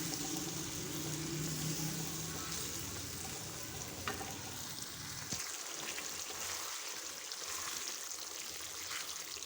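Spiced beaten yogurt sautés in a pan over a medium flame for dahi aloo, giving a faint, steady sizzle with scraping stirs and small crackles throughout, and no talking.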